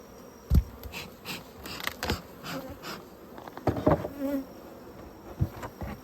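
Honey bees buzz around a mini mating nuc hive, close passes rising and fading over a steady faint hum with no talk.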